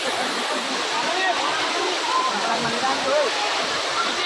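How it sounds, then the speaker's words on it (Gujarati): The BilPudi waterfall roars in a steady, loud, broadband rush of falling water that never lets up, with faint voices mixed into the wash. "આ વોટરફોલ ભાઈ, બિલકુલ વોટરફોલ."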